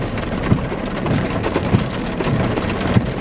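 Rain pattering steadily while soft thunder rumbles thump low several times, moderately loud and close, with no one talking.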